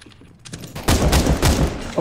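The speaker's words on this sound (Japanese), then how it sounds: "比較的、連射ができる、スナイパーライフルみたいなやつです" In the video game CS:GO, a rapid-firing sniper rifle lets off a quick burst of loud, close shots. Each crack comes in fast succession after a brief quieter lead-in.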